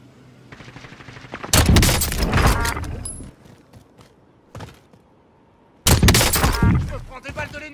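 Gunfire in Call of Duty Warzone on Rebirth Island, with loud bursts of rapid shots in two main volleys, a lone crack between them and quieter game ambience underneath.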